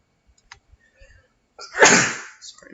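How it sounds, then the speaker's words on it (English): A single loud, close sneeze bursts out after a few faint clicks, rising sharply and trailing off, with no talk over it. "Sorry, I'm sneezing a lot."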